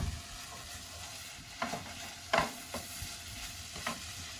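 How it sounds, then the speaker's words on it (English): Roast eggplant stirred into a frying pan for stuffed eggplant, a steady low sizzle broken by several sharp scraping stirs and clatters, close and with no talk. "So we add our eggplant to each pan."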